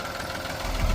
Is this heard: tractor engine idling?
yes